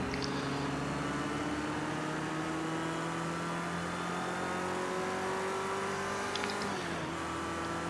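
Vintage touring cars race at Brands Hatch, with an Escort chasing a Mercedes. A loud, sustained engine drone from close by holds steady with a slowly rising pitch, then dips briefly as the revs change near the end.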